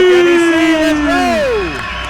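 A packed crowd at a Beast Championship combat-sports fight event roars and whoops loudly, with a long rising and falling whoop-like cry standing out over the dense cheering before it gradually fades.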